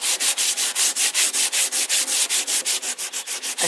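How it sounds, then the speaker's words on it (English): Antique timber gets a light hand sanding with 120-grit sandpaper after scraping, a brisk, even back-and-forth rasping in about twenty regular strokes, close and steady with no talk. "and just give it a little light sanding."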